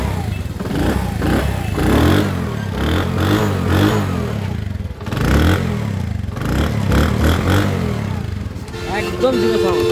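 A second-hand Honda CD 80 motorcycle engine starts and runs close by, its steady putter rising and falling with a few revs, while people talk alongside it.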